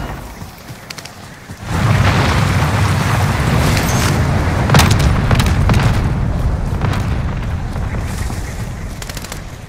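Bomb explosion in a first-person shooter game, a sudden deep boom at about two seconds that settles into a long, loud rumbling roar with scattered gunfire cracks.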